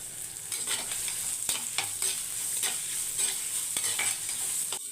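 Onion, tomato, curry leaves and green chilli sautéing in a pan, a steady close sizzle broken by regular scraping stirs of the spatula, fairly loud, with no talk.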